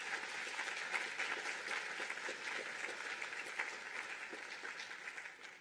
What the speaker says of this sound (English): if you can give them a huge round of applause for putting this together